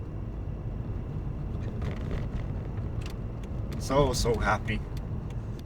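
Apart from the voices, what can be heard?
2005 BMW Z4 Roadster driving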